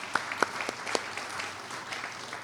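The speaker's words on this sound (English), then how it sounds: "you can clap for yourselves" Scattered hand claps from an audience at the opening of a 2023 festival, a few sharp claps standing out over a soft, thin patter that stays faint and fairly distant.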